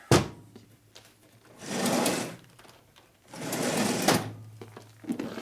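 Reamer machining a transmission part for a 1961 Harley-Davidson Sportster XLCH, two loud grinding, whirring passes of about a second each, framed by a low machine hum and a few clunks.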